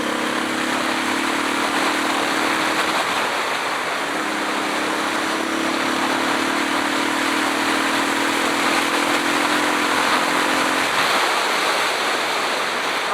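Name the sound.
motorcycle engine while riding on old tires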